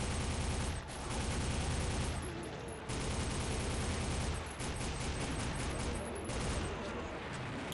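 Gunfire in the video game Soldier of Fortune: rapid, dense bursts of shots in a sustained barrage with brief pauses between volleys, loud and close.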